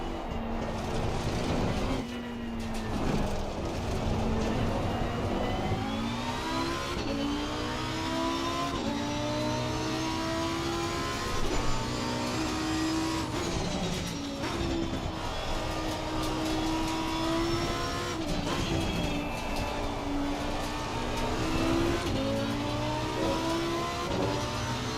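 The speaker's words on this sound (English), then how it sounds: "the Lamborghini drives the best when you rev the shit out of this thing" Lamborghini race car engine in a racing video game, revving hard and continuously with rising and falling pitch as gears shift, loud and up close throughout.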